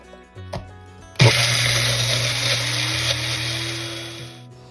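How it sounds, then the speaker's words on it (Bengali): Blender grinding soaked, drained lentils into a coarse pakora batter, a loud steady motor whir starting abruptly after a brief clatter and running continuously until cutting off near the end. "এটাকে ভালো করে ধুয়ে তারপরে একটা ছাঁকনিতে ছেঁকে এটাকে ব্লেন্ড করে ফেলতে হবে।"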